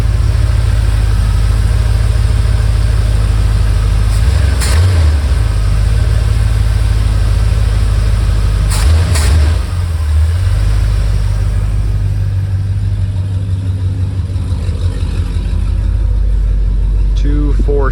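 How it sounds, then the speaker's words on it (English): A 1978 Ford Bronco engine with a newly fitted four-barrel carburetor and intake idles loudly and steadily up close, the low rumble continuous with a couple of slight blips in pitch. "Bump the idle up a little bit."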